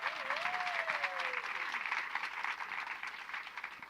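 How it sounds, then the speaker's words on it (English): Audience applause for two women introduced at a women-in-leadership panel discussion, a dense steady clapping that fills the whole stretch at moderate level, with a brief whistle-like tone rising early on. "Give them a big, big hand of applause."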